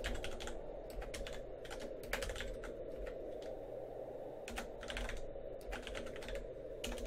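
Quiet typing on a computer keyboard during an Everquest Project 1999 session, with bursts of rapid key clicks separated by short pauses over a low steady background hum.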